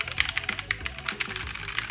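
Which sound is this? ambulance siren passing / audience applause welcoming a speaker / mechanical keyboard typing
mechanical keyboard typing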